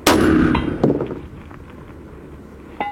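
A single sharp metallic clang of a rifle pellet striking a metal gong target, loud at the start and ringing out, followed by a fainter second ping near the end.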